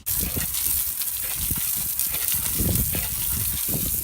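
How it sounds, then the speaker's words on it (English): Garden hose on a rinse setting spraying water over a car, a steady close rushing gush that continues throughout without pause. "now go ahead and grab your hose, and then I am gonna put this on the rinse setting this time"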